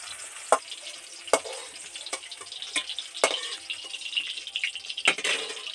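Pieces of young jackfruit and potato frying in hot oil while cooking with shrimp: a steady, fairly quiet hiss broken by several sharp utensil taps against the pan.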